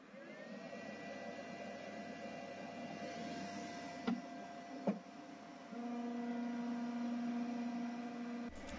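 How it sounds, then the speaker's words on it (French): Creality K1C 3D printer starting its calibration routine, a steady close mechanical whir with whining tonal hum, two brief clicks midway, then a louder sustained buzzing drone before it cuts off at the end. "La machine commence par un calibrage."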